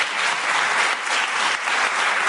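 Dense audience applause fills a commemorative academy evening in Albanian, a steady, close wash of many hands clapping without pause, no voices standing out.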